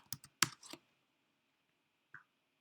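Light typing on a computer keyboard, a brief cluster of crisp key clicks followed by a pause and one more soft tap, close but quiet with no talking.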